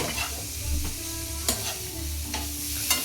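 Paneer fries in a pan for a street-style paneer pizza: a continuous sizzle under sharp spatula scrapes and clacks, with about three louder strikes spaced through the clip.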